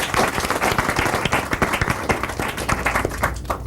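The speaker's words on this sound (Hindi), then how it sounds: "एक बार तालियां गौरव के लिए।" An audience at a National Bravery Awards ceremony applauds in honor of Gaurav Sahasrabuddhe, a loud, dense burst of clapping with sharp individual claps standing out near the end.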